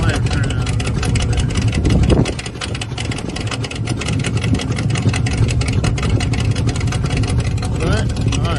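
A carbureted vehicle engine idles steadily after warming up, a loud continuous rumble that lasts throughout, with a brief louder swell near the start.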